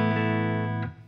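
Electric guitar played through a Fender Deluxe Reverb amp via a GigRig G3 pedal switcher, one sustained chord ringing out alone and loud for about a second before cutting off.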